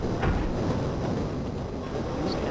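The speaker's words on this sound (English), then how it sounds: "That's why the tram was going really slow." A tram rolling through the Half-Life game world gives a steady, continuous low rumble with faint mechanical rattle and no clear voices.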